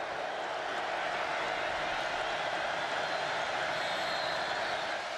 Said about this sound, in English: the crowd got loud.